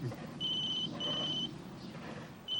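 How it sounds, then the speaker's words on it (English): A mobile phone's electronic ringtone trills in repeated high-pitched bursts, two long tones then a third starting, heard clearly over a quiet room hum. "Somebody's phone's ringing."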